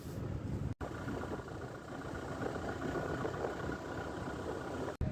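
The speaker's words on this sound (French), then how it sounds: "On emmène le tracteur" A tractor engine runs in a steady low drone on the way to a field for sowing, fairly faint and continuous with a brief dropout near the start and another at the end.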